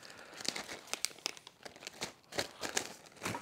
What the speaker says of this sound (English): And then obviously I need my plastic bag of whatever I'm taking.